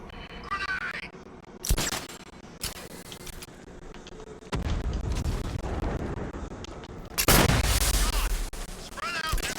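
Grenade blasts and gunfire in the video game Batman Arkham Knight, with loud, sharp bursts and rumbling explosions separated by quieter stretches, while voices shout over the action.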